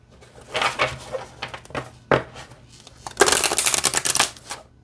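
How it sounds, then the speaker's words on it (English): A 26-card oracle deck being shuffled by hand, with bursts of papery riffling and flicking that come in uneven clusters, the last one longer and louder. "let's see how it shuffles"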